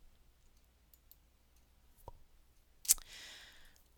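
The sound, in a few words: computer mouse clicking to open a spreadsheet tab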